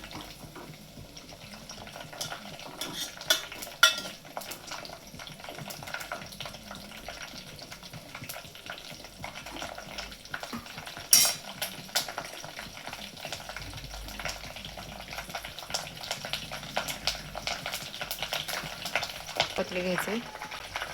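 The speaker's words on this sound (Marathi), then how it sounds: "पूर्ण लिंबाची पानं ही कडक होतात तोपर्यंत ह्याला उकळवायचं आहे, गरम करायचं आहे" Lemon leaves frying in hot oil that is turning green, with a steady sizzle and occasional scraping stirs of a utensil in the pan, close and moderately loud throughout.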